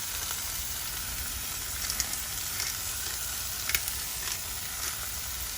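Salmon and onion fry in a pan with a steady, loud, close sizzle and a few faint crackles and pops throughout, with no talking.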